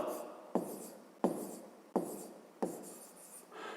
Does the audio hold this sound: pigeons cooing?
no